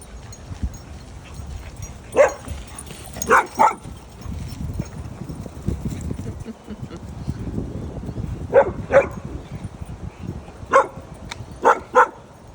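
Puppies barking at an outdoor dog park, short sharp barks coming in scattered clusters at moderate distance over a low background murmur.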